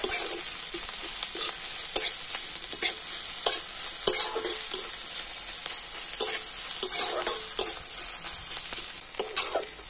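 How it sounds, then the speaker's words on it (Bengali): A teaspoon of grated ginger and spices fry in hot oil for a cauliflower dish, with a steady close sizzle broken by frequent scraping and clinking from stirring, and no talking. "তো এই সমস্ত কিছু তেলের সাথে একটু ভেজে নেব।"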